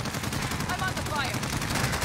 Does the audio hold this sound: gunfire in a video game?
yes